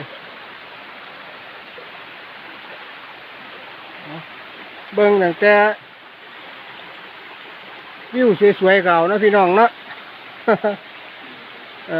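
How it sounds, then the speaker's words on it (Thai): Water rushes steadily at Tat Ton waterfall, a constant broad roar heard throughout while someone speaks in short bursts over it. "น้ำไหล"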